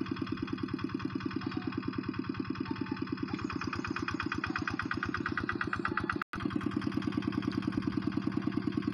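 A Quick Impala hand tractor working a rice paddy gives a steady, rapid mid-range engine chug at an even idle-like rhythm, broken only by a split-second dropout near the end.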